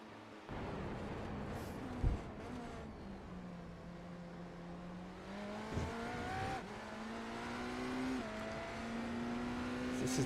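BMW GTP prototype race car in a sim racing game, engine revving up and down through gear changes with rising and falling tones and brief bumps, heard alone at moderate level.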